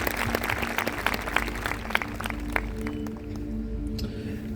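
An audience at a church prayer gathering applauds with scattered, uneven claps that thin out over a few seconds, with a low hum underneath.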